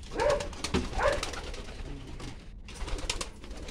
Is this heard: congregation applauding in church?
no